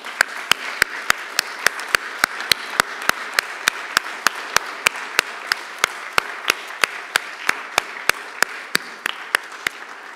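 Steady rhythmic clapping at a live-streamed festival event in a museum, sharp evenly spaced claps over a soft bed of wider applause, moderately loud.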